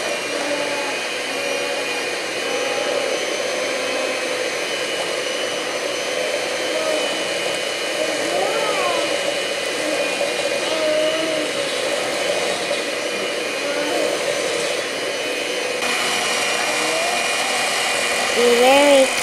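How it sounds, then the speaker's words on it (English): Electric hand mixer whirring steadily through walnut chocolate chip cookie dough, a continuous motor drone running close and loud for the whole stretch with slight shifts in pitch, a voice speaking faintly underneath. "Be very careful using your mixer."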